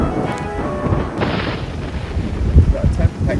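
Thunder rumbles during a rainstorm at a campsite, low booming swells under steady rain, strongest near the end, with a voice heard briefly.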